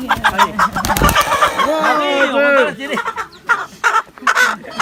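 A rooster crows in a long wavering call, with clucking chicken sounds around it, close by and loud, while people talk over and after it.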